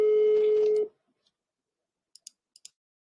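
A single steady telephone tone on a call lasts almost a second and then cuts off, followed by silence and a few faint handset clicks.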